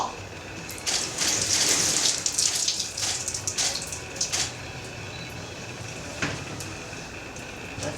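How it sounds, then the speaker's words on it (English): Water poured from above falls and splashes onto a surface, a bright hissing burst that swells for a second or two and then trails off into scattered drips and small splashes. "Let that water fall."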